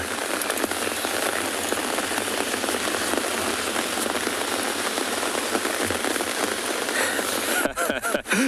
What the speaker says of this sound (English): There is a lot of rain down here